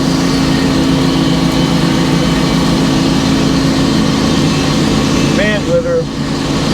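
A sawmill takes a light scrape cut along a big 18-foot oak barn beam. A loud, steady engine drone fills the whole stretch, and a brief voice sounds near the end.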